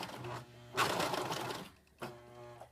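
A serger stitches the edge of a flannel washcloth, giving a steady mechanical whirr in two short bursts separated by a pause, close and moderately loud, with no talking.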